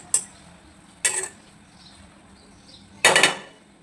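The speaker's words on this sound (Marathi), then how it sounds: "एकदा झाकण खोलून बघूया आपण" Metal lid lifted off a cooking pot of chicken sautéing for biryani, three sharp clanks spaced about a second apart, the last one louder and ringing, with no talking.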